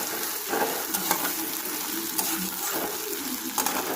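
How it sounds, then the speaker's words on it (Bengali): Chopped garlic, ginger and onion fry in hot oil for a tadka, giving a steady close sizzle with occasional stirring scrapes and bubbling, with no voices. "যতক্ষণ না ভাজা হচ্ছে, ততক্ষণ একটু ভাজলাম।"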